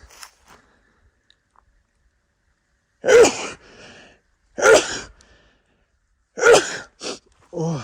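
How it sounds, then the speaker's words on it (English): Three sharp human sneezes, evenly spaced about a second and a half apart, each followed by a brief breathy sound, ring out loudly inside a rural cabin after several seconds of near silence. "I'm going to sneeze really quickly"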